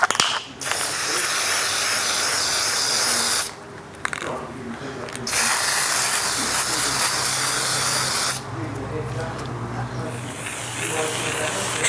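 Bel-Ray spray-on foam filter oil hisses from an aerosol can onto a foam air filter in long, loud bursts, with brief pauses between sprays.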